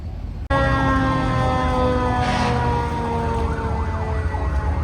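Emergency vehicle siren in a small-town parade, starting abruptly and wailing loud and close for several seconds, with a steady low engine rumble beneath and no talk.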